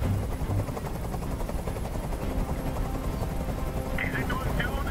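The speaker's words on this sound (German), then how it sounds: "Ich halte diesen Krach nicht mehr aus. Dieser Helikopter soll verschwinden." A helicopter's rotor thrums steadily throughout, with low rumble and a faint high whine, while brief chirpy sounds appear near the end, in Detroit: Become Human.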